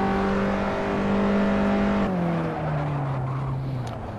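In Assetto Corsa on PS5, a race car's engine drones at a steady pitch, then drops sharply as the manual gearbox downshifts, with the note sliding lower while the car slows.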